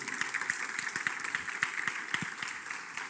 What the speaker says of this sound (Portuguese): Queria que vocês recebessem ele com uma salva de palmas